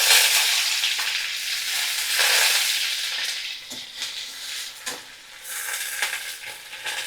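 Chopped onion sizzles loudly in hot oil in a pan, a dense close hiss that surges and eases as it is stirred, with soft scraping now and then and no voices.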